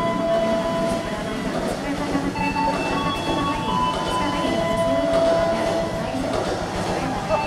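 A train passes on rails right beside a hotel, a continuous loud rumble with rattling wheel clatter, and people talk over it throughout.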